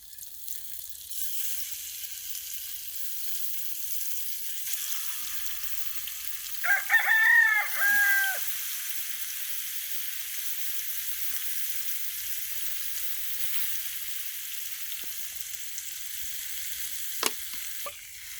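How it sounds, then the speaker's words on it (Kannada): Fish pieces laid one at a time into hot oil on a tawa at a farm house hiss and sizzle steadily throughout, with a rooster crowing clearly partway through and a small clink near the end. "ಈಗ ನಾನು ಈ ಒಂದೊಂದೇ ಫಿಶ್ ತೊಗೊಂಡು ನಾನು ಈ ತವದಲ್ಲಿ ಹಾಕ್ತಾಯಿದ್ದೀನಿ"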